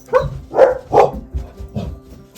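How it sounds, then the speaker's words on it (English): Two dogs barking nearby in a home while soft toys are being sewn, a quick run of four or five loud woofs fading into quieter yips, with no talk. "I don't know what the dogs are barking at."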